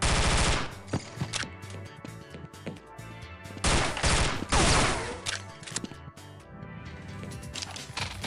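Mossberg 500 shotgun fire in the Half-Life mod The Specialists, loud close blasts in dense bursts with short gaps, heavy booming reports dominating the whole stretch alone.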